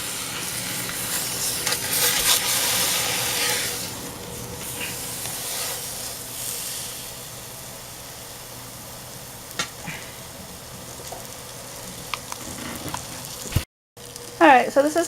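A pork roast for slow cooker Jamaican jerk browns in a pan with a steady fizzing sizzle, loudest early and then fading to a softer hiss, with occasional clatters near the end.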